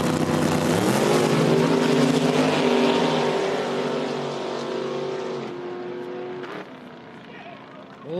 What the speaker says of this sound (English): A little blip of the throttle there for Burns.